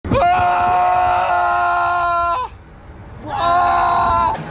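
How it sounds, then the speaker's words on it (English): Screaming on the Sidewinder roller coaster ride, two long loud sustained wails, the first lasting over two seconds, a brief pause, then another rising cry. "I rode the Sidewinder twice and I'm screaming like a freaking little girl."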